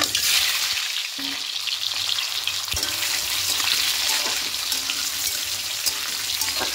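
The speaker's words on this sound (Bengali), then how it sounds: "এবার আলুগুলো দিয়ে হালকা একটু লাল করে ভেজে নেব।" Whole boiled potatoes, pricked with a fork, fry in hot oil for aloo dum, giving a loud, continuous close sizzle with occasional crackles and a few stirring knocks, with no talking.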